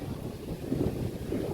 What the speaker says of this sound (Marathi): वारा पण मस्त सुटला.